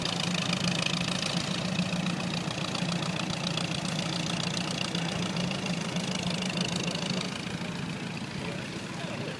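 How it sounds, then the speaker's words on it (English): A 1949 Minneapolis-Moline R tractor engine idles with a steady low chugging rumble, continuous and close, while voices talk over it. "We got a Minneapolis R, Minneapolis Marine R, that's 1949."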